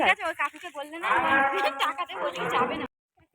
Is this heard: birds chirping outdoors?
no